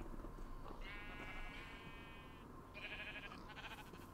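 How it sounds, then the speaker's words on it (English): Rainbow sheep bleating in Minecraft, two drawn-out bleats, one long and one shorter, heard up close over a soft, steady background hiss with no talking. "I've got sheep and pigs over here. I have rainbow sheep."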